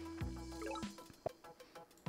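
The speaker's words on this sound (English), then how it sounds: "Another cloak entering the water." A cloak unit slips into the water in the strategy game Polytopia, giving a short game splash made of stacked tones and a quick watery drip. A soft plop and a few faint clicks follow.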